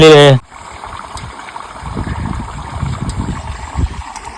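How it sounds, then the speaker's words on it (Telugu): Rainwater runs across a farm field in a steady, gurgling stream that carries on unbroken after a brief loud voice at the very start. "వర్షం నీళ్ళు ఎట్లా సౌండ్ వస్తున్నాయి చూడు"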